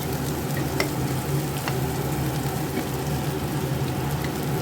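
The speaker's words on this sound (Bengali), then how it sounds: "ভাজা হয়ে যাচ্ছে" A filling of potato, onion, green chilli, ginger, garlic and boiled egg fries in a pan with a steady, close crackling sizzle and a few sharp pops.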